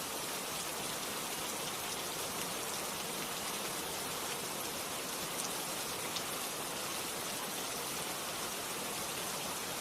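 Steady rain falls, a dense, even wash of drops that stays constant and moderately loud for the whole stretch, with no voices.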